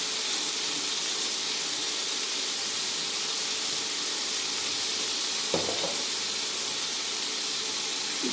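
Chopped potatoes go into a hot pan for a fried vegetable dish, giving a steady, loud sizzle and hiss throughout, with one brief clatter partway through.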